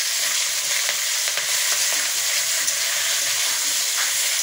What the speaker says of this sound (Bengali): দিয়ে দিচ্ছি, ভাজা হয়ে গেছে মশলাটা